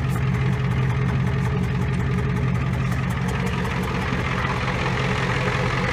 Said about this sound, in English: our first contestant with a Yamaha 200 two-stroke blaster